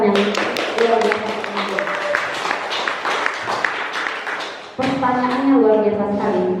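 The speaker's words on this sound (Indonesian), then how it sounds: "beri dulu tepukan yang luar biasa" A seminar audience at a talk on bullying gives a round of applause: a steady patter of many hands clapping in a quick, fairly even rhythm. It swells louder near the end as voices and cheers join in.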